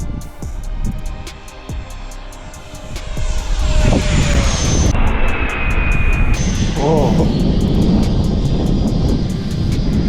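A remote-controlled model jet plane streaks past at full speed with a rising, whining turbine roar and shifting pitch over wind noise, while someone talks briefly nearby.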